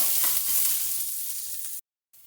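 Chopped onion pieces fry in hot oil in a home kitchen, giving a steady, close hiss and crackle that runs unbroken for almost two seconds before cutting out abruptly.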